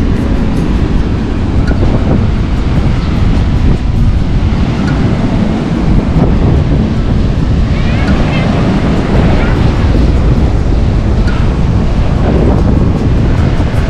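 Loud, wind-battered surf along a Sumatra coastline on a road trip, big ocean waves crashing continuously while strong gusts buffet the microphone throughout, with faint voices underneath.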